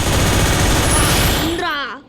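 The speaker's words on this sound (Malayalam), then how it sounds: "വെറുതെ വെടി വെക്കുന്നു." Rapid bursts of gunfire in the video game Free Fire crackle loudly and continuously, then cut off near the end as the sound fades away.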